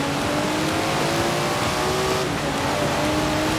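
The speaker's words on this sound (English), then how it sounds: "Never heard a Datsun sound like that, have you?" An upgraded Datsun in Forza Horizon 4 revs hard on the road toward Edinburgh, its engine note climbing and shifting loudly and continuously with no talk over it.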